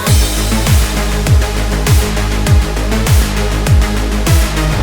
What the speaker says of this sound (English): my favorite way of achieving a distorted snare drum